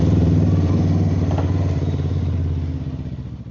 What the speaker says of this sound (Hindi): ये बाइक स्टार्ट हो गया है, ये बाइक स्टार्ट है।